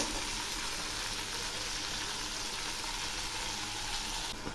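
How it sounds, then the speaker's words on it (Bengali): Vegetables for a healthy khichuri fry steadily in released oil with cumin paste and ginger paste, giving a continuous close, even sizzle with no pauses, no speech, and a brief change right at the end. "এই মশলাগুলো দিয়েও একটু ভাজবো"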